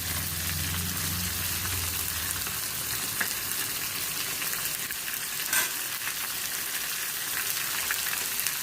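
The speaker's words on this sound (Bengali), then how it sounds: "কালো জিরে ফোড়ন আর সাইডে সাইডে কাঁচা লঙ্কা দিয়ে দিচ্ছি" Black cumin seeds and green chillies tempering in hot oil for a green fish curry, giving a steady broadband sizzle with a brief crackling burst midway, no talking.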